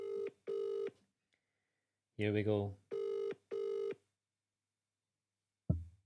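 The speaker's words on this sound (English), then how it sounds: "He's phoning. It's ringing." A telephone ringtone repeats in steady tonal bursts, with a short spoken remark between rings and a brief thump at the end.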